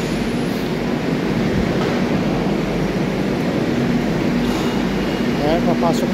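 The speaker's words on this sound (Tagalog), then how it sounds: "Nandiyan na yung train guys, sakto." A train arrives at a station with a steady, loud rumble and roar of wheels and cars throughout, heard close up with some brief squeals.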